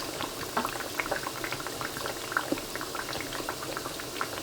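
Eggplant slices frying in oil in a pan give off a continuous bubbling, spattering sizzle, close and fairly soft, with scattered small pops over a steady hiss.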